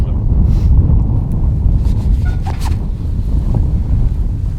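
Strong wind blowing outdoors in mild weather, buffeting the microphone in a loud, continuous low rumble with no pauses for the whole stretch.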